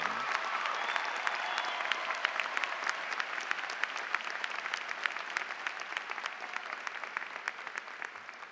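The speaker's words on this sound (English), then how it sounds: "Ladies and gentlemen, can we have a nice round of applause for our valedictorians and salutatorian?" A graduation crowd at Stevenson High School's 2014 commencement applauds its valedictorians and salutatorian, a dense, even roar of clapping with crisp individual claps standing out nearby, steady throughout before easing slightly.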